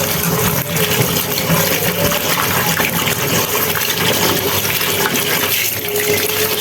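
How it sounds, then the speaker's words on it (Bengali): Okra being washed under a running tap, a steady loud gush of water splashing over the vegetables without pause. "এই যে ভেন্ডিগুলি আমি ধুয়ে নিচ্ছি"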